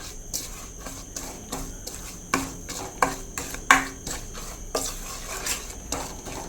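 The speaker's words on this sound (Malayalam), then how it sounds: "ആ മണം വരുന്നത് വരെ അതിനോടൊന്ന് മിക്സ് ചെയ്ത് കൊടുക്കാം" A spoon scrapes and taps against a pan while spice powder roasts for Kerala-style ginger curry, making irregular clinks and scraping strokes over a faint background hiss.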